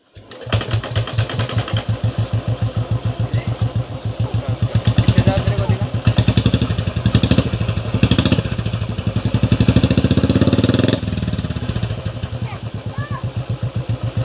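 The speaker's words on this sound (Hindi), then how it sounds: "आपकी बाइक बहुत ही इजीली स्टार्ट हो जाएगी" Royal Enfield Bullet motorcycle, put in third gear, starting without kick or self-starter, then its single-cylinder engine running with a loud, steady, rapid thumping beat that swells and eases with throttle, close up.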